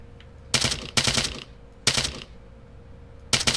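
Automatic gunfire in the Altis Life game, coming in four sharp, loud bursts with short pauses between them, close and without talk.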